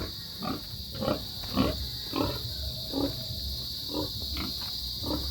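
Pig grunts come in a steady series of short, low bursts, about one every half second, close by over a constant background hiss.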